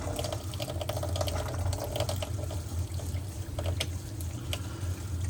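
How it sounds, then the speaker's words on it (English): Hose water flows steadily into an RV water heater during dewinterizing, a continuous, moderately faint rushing and splashing with no break. "Here comes the water."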